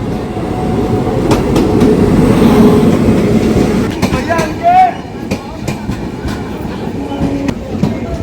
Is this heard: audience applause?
no